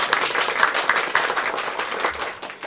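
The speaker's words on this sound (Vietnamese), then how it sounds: "mình vỗ tay chào mấy người mới vào đi" An audience applauding to welcome newcomers, a dense burst of many hands clapping that holds steady for a few seconds, close and loud, then tapers off.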